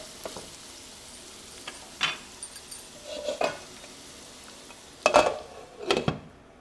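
An unripe avocado sabji with cumin and coriander powder cooks in a pan, a faint steady sizzle broken by a few sharp scraping stirs and clinks of a spoon against the pan, loudest near the end.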